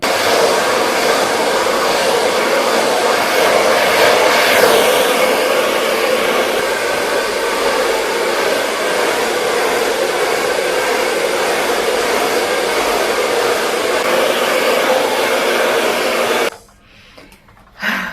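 A hair dryer blows steadily and loudly while hair is dried after a rice and avocado hair mask wash day, then cuts off near the end before a brief restart.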